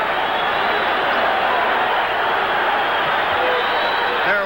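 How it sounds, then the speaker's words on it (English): Boxing arena crowd during a 1964 middleweight title fight, a dense sustained roar of shouting, screaming and whistling that holds steady throughout, with a brief sharp whistle rising near the end. "They're whistling and screaming, and they're punching upstairs"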